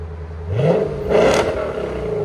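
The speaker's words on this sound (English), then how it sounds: "Rev it the same way again." A Lexus RC F 5.0-litre V8 with an aftermarket exhaust blips twice in quick succession, each rev rising sharply and loud from close range before falling back to idle, with no talk.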